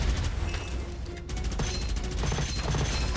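Rapid gunfire from a weapon in the shooter video game Gunfire Reborn, dense repeated shots layered over steady game sound effects and music, loud and continuous with no talking.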